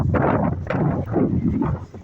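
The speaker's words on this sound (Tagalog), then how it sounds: "medyo malakas po yung hangin" Strong wind buffets the microphone with a steady, loud roar that rises and falls in gusts.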